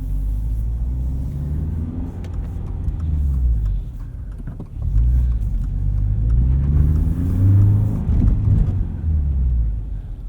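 A car with a 2.4-litre boxer engine rumbles and revs as it accelerates, with a deep, steady drone that rises and dips over several seconds.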